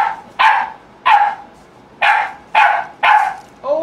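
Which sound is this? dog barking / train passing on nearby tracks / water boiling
dog barking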